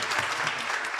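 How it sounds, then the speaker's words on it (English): Audience hand clapping during a teen girls' panel discussion, a brief, dense patter of applause lasting about a second at moderate volume. "Just give her a hand clap."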